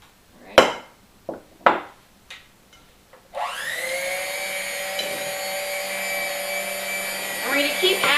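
An electric mixer blending cookie dough of flour and baking powder, starting after a few sharp knocks and clatters, then whirring steadily and loudly for several seconds with a rising strain near the end.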